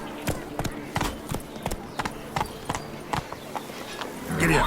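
Horse hooves clip-clopping at a steady gallop in the video game The Witcher 3, with a quick regular rhythm and a voice speaking briefly over the hoofbeats.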